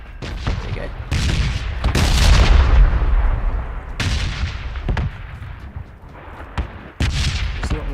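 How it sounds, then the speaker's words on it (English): Falling missiles and bombs exploding across a new map in the battle royale game PUBG, loud repeated booming blasts with crackling debris and gunfire-like bursts, one after another with little pause. "You can also hear the falling noises from the missiles themselves, the bombs"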